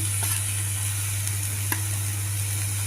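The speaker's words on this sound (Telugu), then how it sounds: "ఇప్పుడు మనం ఉడికించుకున్న ముక్కలు గోచిగుడికాయ ముక్కలు ఈ గోచిగుడికాయ ముక్కలు కూడా వేసుకుని" Cluster beans (gorichikkudu), boiled and cut into pieces, frying with grated coconut in a pan while being stirred: a steady sizzle with a constant low hum and occasional scrape clicks, no talking.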